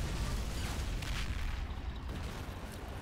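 A battlefield explosion in the WWII strategy game Men of War: Assault Squad 2, a low rumbling boom followed by a steady, loud wash of falling debris and clattering metal, dense and continuous.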